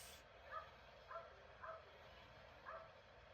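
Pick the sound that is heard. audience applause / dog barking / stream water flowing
dog barking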